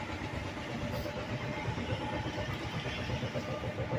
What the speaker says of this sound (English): Concrete truck in the background.